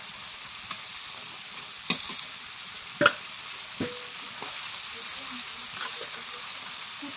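Pointed gourd pieces hit a pan of spiced masala and fry, a constant close hiss of oil with a few sharp knocks and scrapes from stirring, occasional faint speech in the background.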